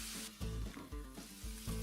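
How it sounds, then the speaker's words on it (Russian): Onion and carrot sizzle in sunflower oil in a frying pan, a steady bright crackle broken by low thumps of stirring at regular intervals, close up and without speech. "Наливаю на сковороду подсолнечное масло, выкладываю лук и морковь, обжариваю их до полуготовности."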